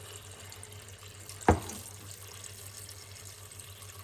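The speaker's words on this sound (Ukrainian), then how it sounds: "Заливаю нашу картоплю холодною водичкою, так, щоб вода тільки покрила нашу картопельку." Cold tap water pours over potatoes in a pot, a quiet steady wash of running water with one brief splash near the start.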